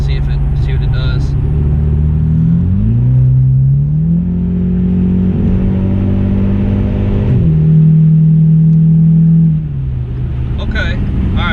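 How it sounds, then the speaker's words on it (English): A Bama-tuned Ford Mustang EcoBoost accelerates hard at full throttle, its engine note climbing loud and close through rising gear pulls, with a brief dip between shifts before easing off near the end. "give it a full pedal to the metal mash here"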